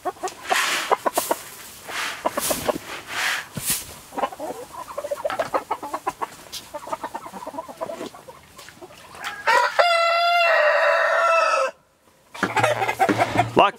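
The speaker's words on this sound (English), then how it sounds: "The chickens have been locked in the winter greenhouse." Chickens locked inside a winter greenhouse on a small farm cluck and squawk in busy, overlapping bursts nearby, and a rooster lets out a long, loud crow before the clucking picks up again.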